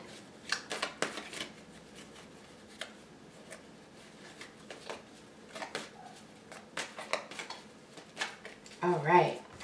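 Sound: cutting and shuffling a deck of tarot cards

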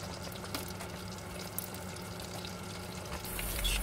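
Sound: spring rolls frying in hot oil

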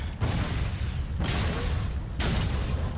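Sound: explosions in the video game Shank 2

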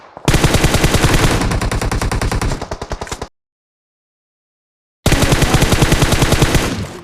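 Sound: gunfire from PUBG Mobile video game

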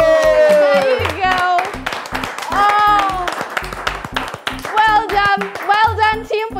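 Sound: children clapping for a team

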